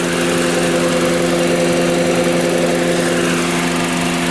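A car engine runs steadily at idle while air-conditioning oil is topped up, a continuous droning hum with a buzzing vibration, close and loud throughout.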